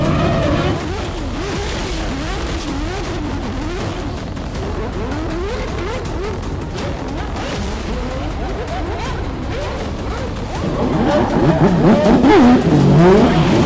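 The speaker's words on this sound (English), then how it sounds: "Hopefully make it around this pretty tight corner in an F1 car, which will be fun." Formula 1 race car, a Red Bull RB7, circling a tight corner, its engine droning steadily near and loud with shifting pitch, then surging louder and revving harder as it powers out near the end.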